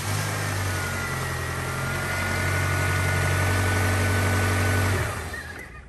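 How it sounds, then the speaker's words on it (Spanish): A 1996 Toyota Tacoma engine runs steadily at idle for about five seconds, a close, loud mid-pitched hum with a strong low drone, before the sound drops away near the end. "vamos a encender el auto"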